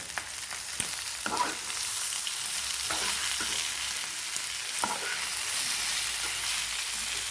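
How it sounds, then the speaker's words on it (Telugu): Boiled elephant yam and tomato pieces sizzle steadily in a hot pan for a spicy dried-prawn curry, with scattered scraping stirs over the continuous frying hiss and no talking. "ఇవి 2 మినిట్స్ వేగిన తర్వాత మనం ఉడకపెట్టుకున్న కంద, కట్ చేసి పెట్టుకున్న టమాటా ముక్కలు వేసేసుకున్నాం"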